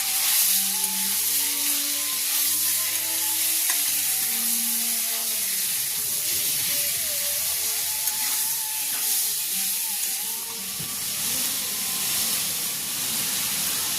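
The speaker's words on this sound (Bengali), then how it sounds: "ওই মাংসটা ভেজে নেবো" Spiced chicken for pakora sizzles in a pan with a steady, bright hiss of frying oil. It runs loud and constant throughout, with a faint low hum beneath.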